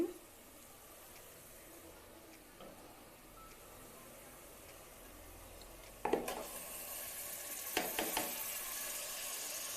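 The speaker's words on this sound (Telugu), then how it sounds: "ఈ టైంలో మనం ఖైమా యాడ్ చేద్దామండి" Minced mutton keema hits a pan of fried ginger garlic paste, a quiet steady sizzle that swells suddenly partway through into louder crackling frying with a few scraping clatters of stirring.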